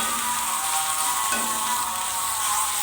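Spices being stirred into dried fish (sukat) frying in a pan for a rustic village-style dry dish, giving a steady close sizzle with soft scraping of the spoon, and no voices.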